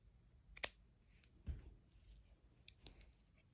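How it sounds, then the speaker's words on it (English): Scissors snip through crochet yarn: one sharp, close, quiet snip followed by a few softer clicks and rustles in an otherwise near-silent room. "after this, you can just take your scissors and cut the yarn"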